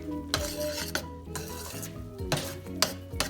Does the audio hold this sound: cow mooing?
no